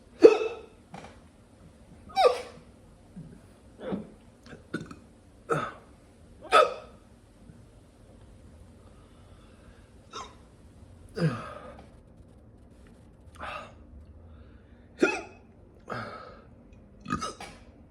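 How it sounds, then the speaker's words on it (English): Repeated hiccups from a person with a sore neck and mouth after eating hot pepper, about a dozen short sharp bursts at irregular intervals across the clip, close and fairly loud, with no talking in between. "hiccups."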